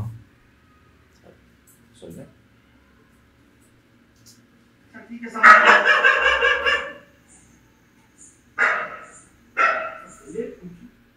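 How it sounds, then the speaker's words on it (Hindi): A dog barks from inside a room, a burst of loud barks followed by a few shorter separate barks, with quiet voices and small sounds between them. "कमरे की तरफ रुक करके क्यों भौंक रहा है?"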